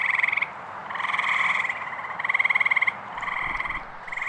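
Gray tree frogs and Fowler's toads calling from a drainage swale at night, with repeated loud trilling bursts roughly every second, close and without any voices.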